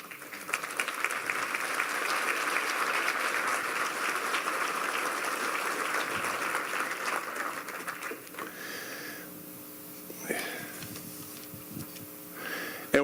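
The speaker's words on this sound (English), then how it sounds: "we'll give you a great big round of applause" An audience at a West Virginia Chamber business summit breaks into sustained applause, a full, steady roll of clapping that fades after about eight seconds, leaving someone speaking into a microphone.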